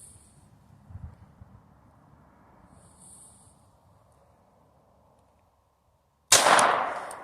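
A single loud, sharp handgun shot at a target cracks out suddenly after several seconds of quiet outdoor ambience, then rings off briefly.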